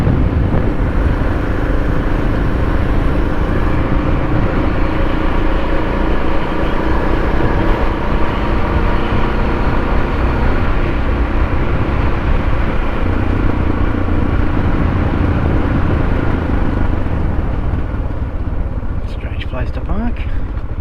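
A Suzuki DR650 motorcycle ridden through Werrikimbe National Park after heavy rain, its engine and wind noise a loud, continuous drone throughout with little variation.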